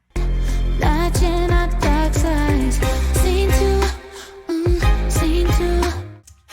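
Staccato strings for a pop post-chorus play a busy run of short, clipped notes over a steady low pulse, dropping out briefly near the middle before the pattern returns, loud and without any voice.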